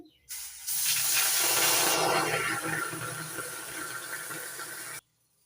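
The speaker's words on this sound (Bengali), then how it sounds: "এবার গ্যাস ধরিয়ে গ্যাস ওভেনে কড়াই বসিয়ে দিয়েছি। কড়াইতে দিয়ে দিচ্ছি একটু জল।" Water poured into a hot wok on a gas stove hisses and sputters into steam, a loud burst that rises quickly, then holds as a sustained sizzle before cutting off abruptly, close and alone.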